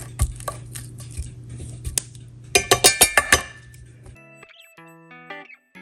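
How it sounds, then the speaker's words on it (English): Potatoes being smashed in a pan, heard as a quick series of sharp metallic clinks and taps, close by and alone. "Alright, let's smash these potatoes."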